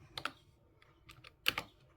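Keys on a computer keyboard are tapped close up in two quick clusters separated by a short pause, each press a crisp click, with no talking, while a Linux command is entered.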